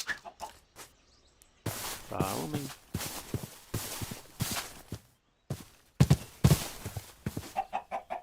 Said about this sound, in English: Chicken. I hear chickens.